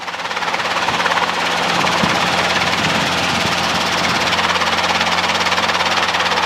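A Robinson R22 helicopter's engine and rotors drone loudly and steadily in flight, a close, continuous throbbing roar with a fast pulsing beat.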